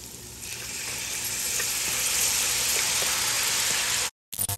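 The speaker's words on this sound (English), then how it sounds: "your onion, garlic, pepper, and thyme, guys, okay? We're just gonna saute this for a few minutes." Onion, garlic, pepper and thyme sauté in a pan for curry salmon, a loud continuous sizzle that swells gradually, then cuts out briefly near the end before a few short bursts return.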